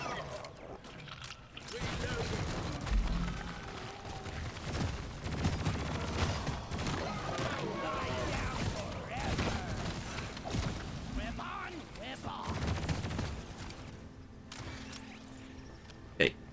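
Engineer's weapon firing in the video game Deep Rock Galactic, dense rapid bursts running almost the whole time amid clanking mechanical game noise, loud and close, with talk present.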